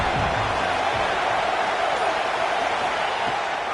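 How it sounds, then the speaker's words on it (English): A college football stadium crowd roars on third down at a Crimson Tide home game, a loud, sustained wash of noise that holds steady throughout. "The Tide crowd rolling noise down on the Saban field on 3rd down."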